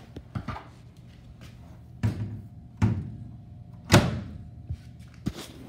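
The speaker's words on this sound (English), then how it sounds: "Go ahead and close the door." A front-loading washing machine door in a hotel guest laundry room is pushed shut, giving several dull thuds and knocks spread over a few seconds, with one stronger closing thump standing out near the end.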